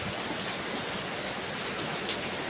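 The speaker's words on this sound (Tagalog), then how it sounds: "Grabe naman, yung ulan." Heavy rain pours down in the early hours before dawn, a dense, unbroken roar of drops hitting surfaces, loud and close with no voices.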